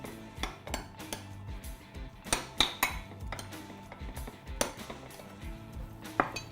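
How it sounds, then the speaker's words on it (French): A utensil stirs vegetables seasoned with salt, pepper and olive oil, making a run of close, irregular clinks and scrapes against a dish, with short pauses between strokes. "et on remue."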